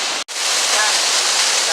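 Waterfall at Hanging Rock pours in a loud, continuous hissing rush, heard close up, broken only by a brief dropout near the start.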